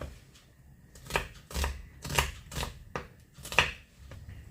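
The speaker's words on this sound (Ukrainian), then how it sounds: "Нарізаємо цибульку." A knife chops onion on a cutting board in a slow, uneven series of crisp thuds, close by, with quiet pauses between strokes.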